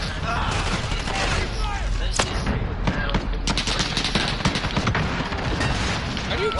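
Rapid gunfire from a PS4 shooter game rattles on continuously at close range, dense bursts and single shots packed through the whole stretch, with a voice talking over the top at times.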